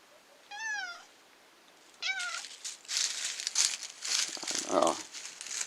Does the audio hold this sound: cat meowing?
yes